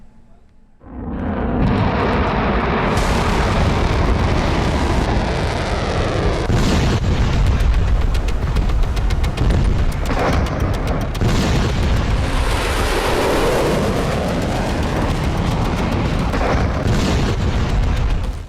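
Missile strike explosions in a war between Israel and Iran, a loud, dense, continuous roar of blasts and rumbling booms with sharper bursts, starting after a brief quiet opening.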